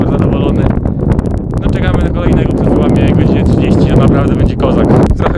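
Strong wind buffets the microphone on the summit of Rysy mountain, roaring loud and gusty throughout, with a voice partly buried under it.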